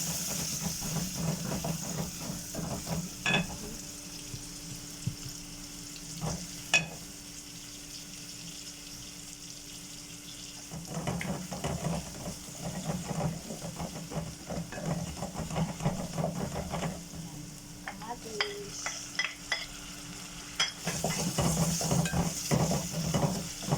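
Garlic and onion sautéing in a pan for a Filipino eggplant and water spinach dish, a soft sizzle with scraping stirs coming in bursts, punctuated by clinks and quieter pauses.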